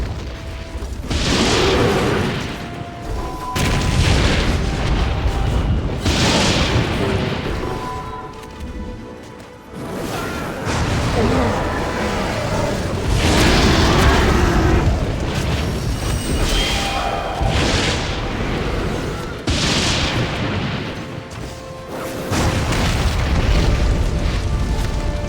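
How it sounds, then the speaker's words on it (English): Flame-spewing fire machine in the Lord of the Rings: Conquest battle game, repeated loud booming blasts and roaring bursts of fire in rapid succession, with heavy crashes between them. "Solomon's fire machine spews flames of death!"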